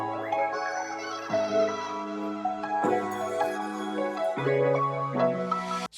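An RnB soul sample loop plays effected vocals from Splice: layered, sustained harmonic tones that shift chords every second or so, smooth and close, with no speaking voice.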